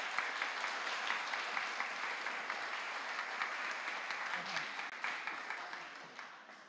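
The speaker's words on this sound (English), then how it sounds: "If we'd give them a round of applause." A church congregation at a family service breaks into warm applause, a dense crowd of clapping hands that holds steady before gradually thinning and fading toward the end, with a little scattered murmuring.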